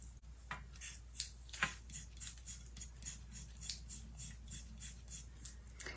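An X-Acto craft knife scraping and cutting through paper in an art studio, a steady series of soft, rhythmic strokes close by with no talk.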